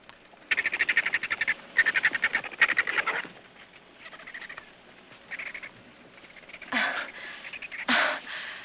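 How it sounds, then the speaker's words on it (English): Bursts of rapid, rattling gray jay calls repeat in clusters, followed by a few harsher squawks, fairly close against a quiet background. "Oh, that's a whiskey jack."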